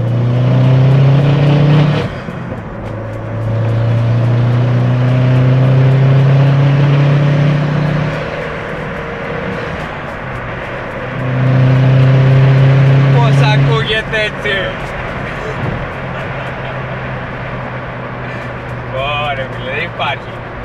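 A 250 hp Opel Corsa OPC engine revs up hard in long surging pulls with strong low harmonics, easing off between bursts, with brief mechanical clatter in the gaps.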